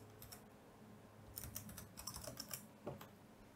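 Keys clatter on a computer keyboard while two Wi-Fi strings are entered into ESP8266 code, a quiet run of uneven clicks that bunches into denser, louder bursts toward the middle, with no voices.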